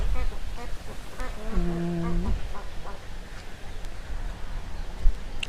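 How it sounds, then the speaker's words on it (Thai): A Peking duck at a backyard poultry farm gives a few nasal quacks, including one drawn-out call, over outdoor background noise and faint murmuring. "เป็นเป็ดปักกิ่งนะครับ"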